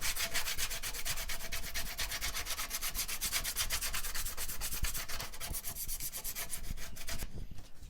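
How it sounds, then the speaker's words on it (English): Sandpaper rubbing rhythmically around the rough edges of a hole cut in a homemade quail feeder, a close, steady back-and-forth scratching that continues for several seconds and ends in a brief quieter stretch. "grab a little bit of sandpaper and just sand off those rough edges"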